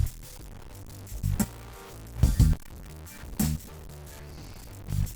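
Quiet, harsh digital crackle and gritty noise from truncation distortion without dither, swelling in short bursts over a faint low background.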